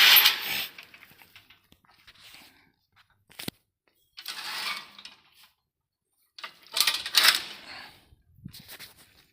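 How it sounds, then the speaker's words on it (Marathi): Several bursts of metallic rattling and clanking separated by quiet gaps, with one sharp bang in between, like a metal gate swung shut and latched, at Malhargad Fort near Pune. "गेट लावून घेऊया परत"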